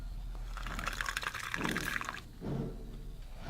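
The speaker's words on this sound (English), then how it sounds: "Pour the bleach." Bleach pours from a container in a steady liquid stream for a couple of seconds, breaks off briefly, then resumes in a shorter splashing pour, close and clear.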